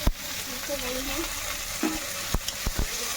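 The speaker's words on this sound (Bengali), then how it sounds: "আমার উচ্ছেটা ভাজা ভাজা হয়ে গেছে" Bitter gourd sizzles steadily in hot oil in a pan during home cooking, with a constant frying hiss and a few sharp utensil clicks and taps near the end.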